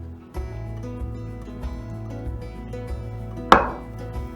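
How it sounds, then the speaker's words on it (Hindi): A knife slices an eggplant on a board, with a few soft cuts and one sharp, louder chop near the end over a faint low background hum. "तो पहले मैं एग प्लांट को ऐसे जो बीज से ऐसे काट देता हूँ"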